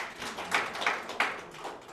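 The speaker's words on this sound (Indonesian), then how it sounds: "Tepuk tangan dulu buat Tuhan kita." A church congregation applauding God during a service, a short, faint spell of uneven clapping with a few louder claps, at a distance.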